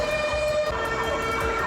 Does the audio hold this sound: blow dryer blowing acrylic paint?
no